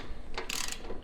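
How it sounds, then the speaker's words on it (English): Wrench ratcheting as it tightens a ball joint on a Dissent Off-Road modular rear bumper for a Land Cruiser LX470, a short burst of close mechanical clicks lasting about a second with no talking. "And you tighten the ball joint"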